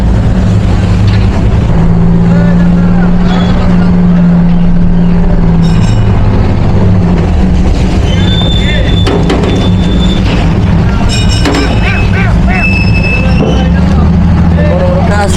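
Busy river launch station at Chandpur with boats arriving, a steady low engine drone and horn-like tones rising over crowd noise, with people talking nearby throughout.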